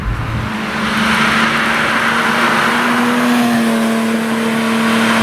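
A Porsche 911R's engine drones steadily from inside the car, dipping briefly and then rising to a loud, sustained higher-pitched tone as the flat-six holds revs after a downshift, with no talking.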